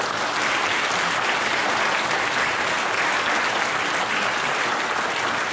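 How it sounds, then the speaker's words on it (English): A dense crowd at an evening meet-and-greet gives sustained, loud applause that stays even throughout with no voices standing out. "So you guys, give them a big round of applause."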